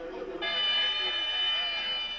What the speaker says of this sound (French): les supporters bastiais vont donner de l'avertisseur durant toute la nuit